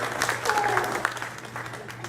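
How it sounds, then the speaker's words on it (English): Brief applause from a church congregation, a soft, fairly even patter of clapping mixed with a low hum, with voices faintly present. "Let's clap the Lord."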